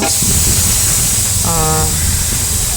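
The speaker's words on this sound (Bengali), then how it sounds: "এই গোটা গরম মশলা, জিরে, তেজপাতা, এলাচ, লং সব ভালো করে সর্ষের তেলের মধ্যে দিয়ে ভালো করে দেখুন ভেজে নিচ্ছি" Whole garam masala, cumin, bay leaf, cardamom and cloves fry in hot mustard oil, giving a loud, steady sizzling hiss with a brief tonal sound partway through.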